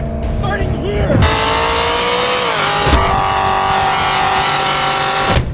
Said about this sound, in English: This is my 600 horsepower BMW M3 Club Sport.